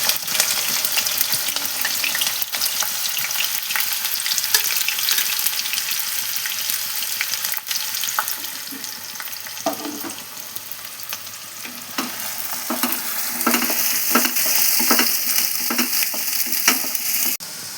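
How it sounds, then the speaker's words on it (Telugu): Ginger, onions and green chillies sizzle and crackle steadily in hot oil for a mutton curry, with occasional stirring scrapes and sharper pops toward the end; close and continuous, no talking. "నూనె కాగిందండి. అల్లం, ఉల్లిపాయలు, పచ్చిమిరపకాయలు వేసుకుంటున్నానండి."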